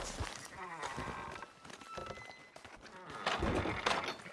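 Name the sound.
sheep bleating in Red Dead Redemption 2 video game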